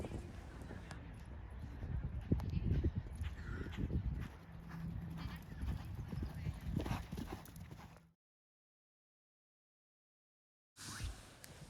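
Horse hooves clip-clop steadily during a showjumping club training day, fairly close and loud for about eight seconds, with some talk and a brief whinny-like sound, then a few seconds of silence before the sound returns.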